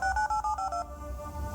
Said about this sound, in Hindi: रिसेप्शन पर फोन किया